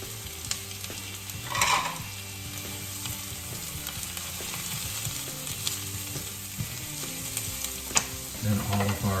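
Mushrooms and carrots fry in a pan with a steady sizzle and crackle, broken by occasional stirring clatters, close and fairly quiet with no talk.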